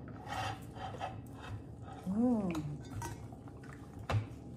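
Pork is stirred in a pot with a metal utensil, producing soft scraping and clinking over a steady kitchen background, with a brief rising squeak and a sharp knock near the end.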